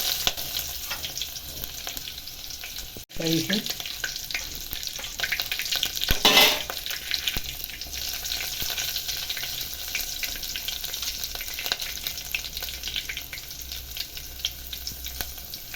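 Tempering frying in hot oil as cumin, coriander seeds, bay leaf and chopped onion are added for Gujarati wedding-style kadhi, a steady close sizzle with stirring scrapes and a sharper burst of crackle partway through.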